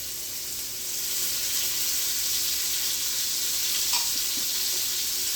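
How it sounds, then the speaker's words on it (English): Onions and red peppers sauté in a hot pan over medium heat, a steady broad sizzle running the whole time with a faint stir or scrape near the end, no voices. "We're gonna add the onions. We're gonna add the red peppers with that."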